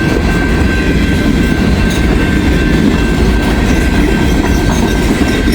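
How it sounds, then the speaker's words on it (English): A freight train hauling empty railroad tie cars rolls past close by, a loud continuous roar of wheels and rattling cars with rhythmic clacking and a faint high squeal throughout. "Oh, railroad tie cars."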